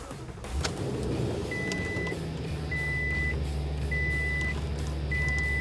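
A 2020 Toyota Tundra SR5 is started with a key: the engine catches right away and settles into a low, steady idle, while a chime beeps repeatedly from inside the cab.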